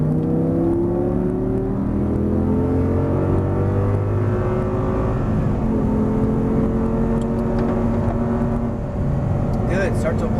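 An Audi R8 engine roars loud and close on a track, holding a dense droning note whose pitch climbs and shifts through throttle changes.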